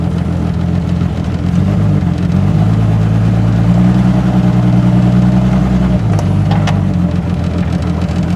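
A Jeep Wrangler YJ engine runs at close range with steady low idling and revving as it drives and makes reverse stops after rear brake work, ending in a few brief knocks.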